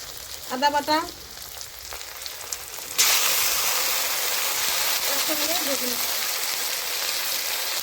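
Spice paste of green chilli, garlic and onion added to hot oil with fried onions in a pan, a steady loud sizzle that jumps up sharply partway and holds, with a few spoken words before it.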